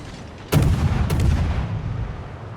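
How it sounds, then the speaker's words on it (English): Two torpedo hits explode on an enemy ship in a naval battle video game, a loud sudden boom followed about half a second later by a second blast, with rumbling decay trailing off afterward. "There's 2 torpedo hits."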